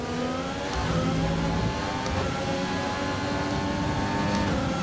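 A McLaren Formula 1 car in the racing game F1 2020 screams steadily at high revs, loud and close, with a sustained whine and faint overlapping engines of nearby cars.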